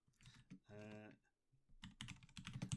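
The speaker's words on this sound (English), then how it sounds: "Here's my clacky keyboard. Wait for it. Clacking away there." Clacky computer keyboard typed in quick bursts, close and fairly quiet, with short bits of talk mixed in.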